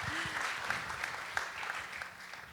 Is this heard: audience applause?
yes